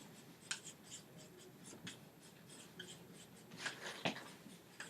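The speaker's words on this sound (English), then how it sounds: "I'm going to write this on the board" Marker or chalk writing on a classroom board, a faint series of short scratchy strokes and taps in an uneven rhythm, close and quiet, with no talk.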